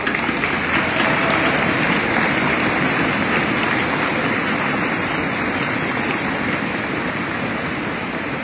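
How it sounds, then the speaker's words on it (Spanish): An audience at the production launch event for the 2025 Nissan Kicks applauds in a steady, dense wash of clapping that holds an even level for over eight seconds with no talk over it. "Aplausos."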